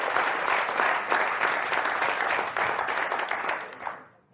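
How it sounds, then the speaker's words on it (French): Studio audience applause on a French television game show, a dense sustained burst of clapping that fills the clip and fades out at the end, with no talk over it. "Allez, on vous applaudit très fort."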